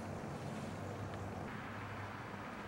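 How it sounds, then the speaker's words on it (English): A small homemade wind turbine built around a stepper motor spins in an east wind outdoors, a steady low rushing and buffeting of gusts blowing across the microphone without a break. "The wind is coming out from the east."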